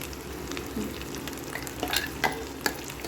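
Chicken curry with masala paste stirred in a pan, a steady sizzle and fry under scraping spoon strokes, close and moderately loud with a few sharper clinks.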